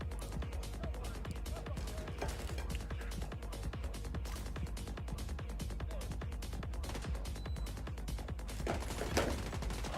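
Gunfire in the shooter game The Division crackles in rapid, steady bursts throughout, moderately loud under a speaking voice.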